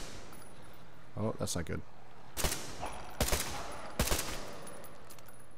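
Three sharp gunshots from the video game Metro, evenly spaced about a second apart, following a brief spoken remark over a low, steady game ambience.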